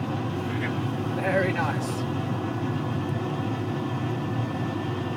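In a Boeing 737 flight simulator, reverse thrust after touchdown gives a steady low roar that holds throughout, with a short spoken remark over it early on.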